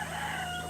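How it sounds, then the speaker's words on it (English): A rooster crowing close by, a short sustained tonal call cut off partway through, with no talk over it. "That's a rooster"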